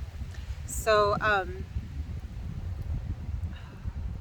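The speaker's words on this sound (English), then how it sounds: "the wind is getting crazy" Wind buffets an outdoor microphone with low, continuous rumbling gusts, while a voice speaks briefly over it.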